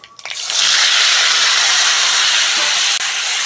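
Washed, chopped tomatoes hit hot oil tempered with dried red chillies and mustard seeds, setting off a loud, sudden hiss that swells within half a second and holds as a steady, close, roaring sizzle.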